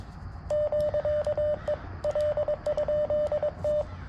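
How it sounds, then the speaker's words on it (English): A CW Morse key keys the sidetone of an FX-4CR radio, a steady mid-pitched tone in clear dits and dahs sounding alone at moderate loudness. "Hopefully you can hear that side tone."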